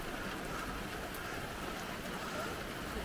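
Rain falling steadily on a car during a walk on Dartmoor in Devon, a continuous dense patter and hiss at even, moderate loudness throughout.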